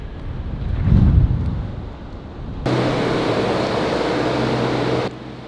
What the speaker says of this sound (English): It's a raging storm.